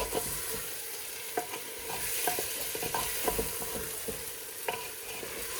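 Fried chicken pieces being stirred into Kerala biryani masala in a pan, a steady low sizzle with scattered scrapes and soft clacks of the spoon, close up with no voices.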